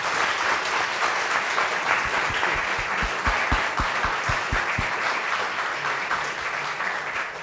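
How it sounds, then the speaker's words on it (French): An audience applauds the speakers at the end of a round-table panel discussion, steady dense clapping from a crowd indoors, with a few louder nearby claps in the middle. "Je vous demande d'applaudir nos intervenants."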